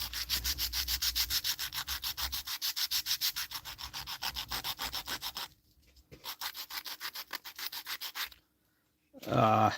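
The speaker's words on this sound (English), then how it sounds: "I'm gonna have to go to the sander." A power sander grinds steadily against wood with a pulsing, close-up whir, cutting out briefly twice before a final short burst.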